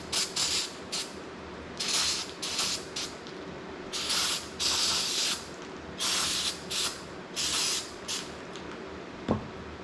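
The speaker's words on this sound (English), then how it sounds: "we're just gonna spray it out with some brake clean" Brake cleaner is sprayed into an ATV starter motor housing in a run of hissing bursts, each lasting half a second to a second and separated by short pauses, with a sharp click near the end.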